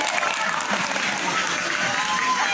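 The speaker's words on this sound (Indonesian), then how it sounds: "Tepuk tangan dulu dong yang meriah." School students at an Islamic religious assembly clap together in a lively burst, a busy crowd of hands close by with some voices mixed in.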